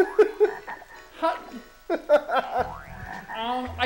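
Cartoonish frog croaks from a video game, several short croaks up close with music and players talking and laughing over them.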